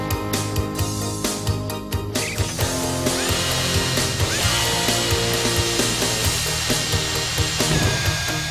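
A power drill bores countersink holes into a Cemintel Expresswall fibre-cement panel, a steady loud whirring drone with a brief pause and restart early on, then continuous grinding.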